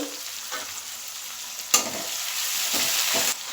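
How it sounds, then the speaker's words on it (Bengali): Onions sizzle loudly in a hot pan, with a crackling hiss and a few scraping stirs from a spatula, close up and with no talking. "পেঁয়াজটা একটু ভেজে নেব লালচে করে"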